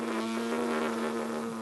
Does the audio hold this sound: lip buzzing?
yes